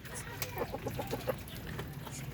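Breeder chickens in a poultry flock give a quick run of about six soft, evenly spaced clucks, fairly close, over a low background hum.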